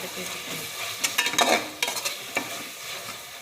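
Ginger and garlic sauté in a pan of oil for chicken biryani, a steady sizzle broken by several sharp scraping stirs of a spoon, close and alone with no talk.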